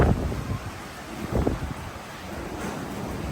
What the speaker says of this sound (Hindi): ऐसा मुसलसल आधे घंटे से ऊपर हो चुका टाइम और मुसलसल हवा चल रही है।